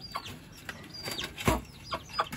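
Chickens clucking in a coop: short, scattered clucks and squawks in a quick, irregular series, moderately close, with no talking.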